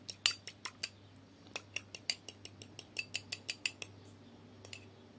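A fork clinks rapidly and repeatedly against a bowl while beating egg yolk with oil, a close, bright series of regular taps with a short pause near the end, no talking.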